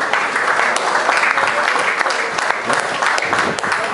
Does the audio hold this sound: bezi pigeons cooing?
no